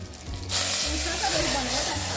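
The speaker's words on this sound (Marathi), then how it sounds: "मिरची छान गरम झाल्यानंतर आपण त्यामध्ये रस ऊसाचा रस टाकणार आहोत" Sugarcane juice hits hot chili in a pan and sets off a sudden loud hiss after a quiet start, then keeps sizzling steadily up close.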